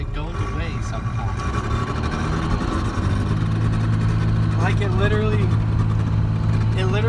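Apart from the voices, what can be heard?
12 valve Cummins truck running with a weird frame noise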